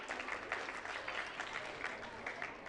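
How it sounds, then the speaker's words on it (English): A round of applause for tennis coaches at a club gathering, steady dense clapping from a group filling the whole moment at close range, with no pauses. "So round of applause to you guys."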